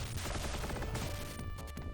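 Rapid explosion and gunfire effects from the Sega Genesis game Growl, a dense burst of crashing blasts played back to back, loud and continuous, with a brief bright tone near the end.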